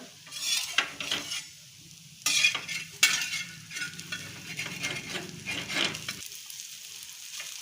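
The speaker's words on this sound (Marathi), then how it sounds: "इकडून खरपूस भाजले हे आपली वांग्याची थालीपीठ तयार झाली" Brinjal thalipeeth roasts in a pan on a gas stove, with soft frying sizzle broken by spatula scrapes and clinks against the pan.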